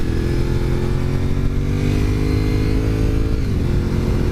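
A Honda VTR 1000 SP1 V-twin motorcycle revs loud and close, a steady throbbing engine note that holds then drops in pitch near the end.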